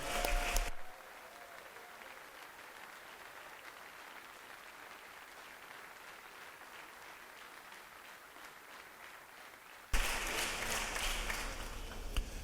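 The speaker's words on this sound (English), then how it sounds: "Let's give a wonderful round of applause to that First Lady" Sustained applause fills the House chamber in honor of the First Lady, steady and broad across the room, with a louder burst of talk and noise at the start and a sharper surge near the end.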